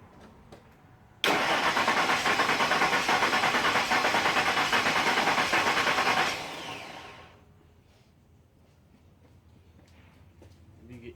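Engine of a 2000 Ford F150 with a misfire fault cranking over during a compression test, a steady loud rhythmic churn for about five seconds that cuts off abruptly, leaving quiet room noise afterward.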